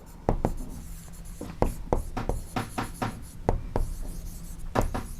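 A pen scratches out math working on paper in short, irregular strokes and taps, close and fairly quiet, with no talking.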